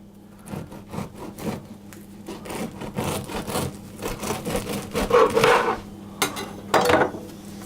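A knife saws through a cooled white Pullman loaf of bread in repeated rasping, woody strokes. The sound is close and moderately loud, with a few stronger cuts near the end and no speech.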